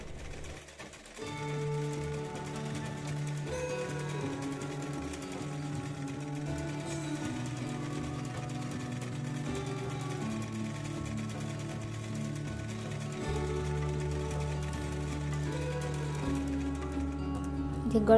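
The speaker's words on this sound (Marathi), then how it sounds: "आता या पार्टला सुद्धा आपण साईडला शिलाई मारून घेऊया." A sewing machine stitches the side seam of a maxi gown, running in a steady, rapid mechanical hum for most of the stretch, pausing briefly and then resuming with a lower, heavier whir near the end.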